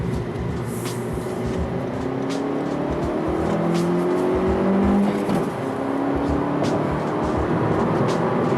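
A 2017 Honda Civic Si sedan engine revs and shifts quickly through the gears from inside the cabin, a steady drone with rising pitch sweeps between shifts and no lingering rev hang.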